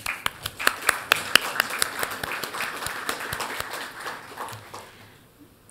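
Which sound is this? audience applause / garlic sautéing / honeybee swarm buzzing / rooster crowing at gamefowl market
audience applause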